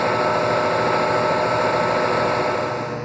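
Steady, even hum of a Toyota Tundra engine idling at 1500 RPM with its electric cooling fan switched off, heard close with a constant broadband drone that eases slightly at the end.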